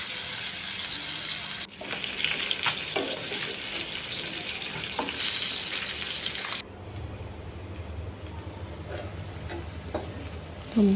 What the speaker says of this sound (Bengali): ফ্রাই প্যানে তেল দিলাম। তো কই মাছটা এখন ভাজবো।